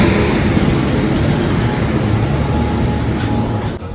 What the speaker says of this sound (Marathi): मालगाडी